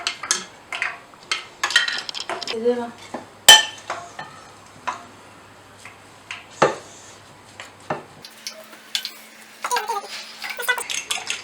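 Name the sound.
mixing chicken cutlet mixture with coriander powder and salt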